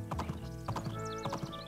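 Horse hooves clop in a steady rhythm while a horse whinnies in the video game Doraemon Story of Seasons on Switch, with a faint background tone, all fairly quiet and without talking.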